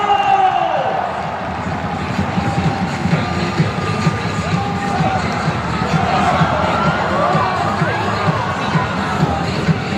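Football fans at DGB Daegu Bank Park, a Daegu FC stadium, applaud and cheer during a welcome ceremony for returning players, a dense, continuous wash of clapping and crowd noise filling the whole stretch.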